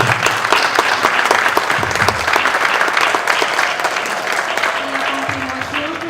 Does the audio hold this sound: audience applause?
yes